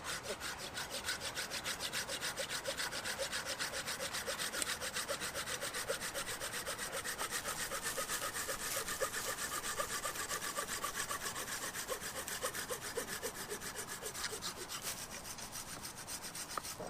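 A hand saw cuts through a wooden stick for a bushcraft pack frame, rasping back and forth in quick, steady strokes that continue without pause, fairly close and moderately quiet.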